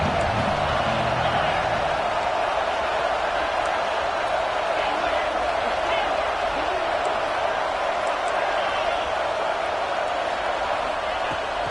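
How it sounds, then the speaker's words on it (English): A stadium crowd in a Madden football video game keeps up a loud, steady roar of cheering and noise, continuous and unbroken from start to finish. "This crowd bringing the energy and noise early."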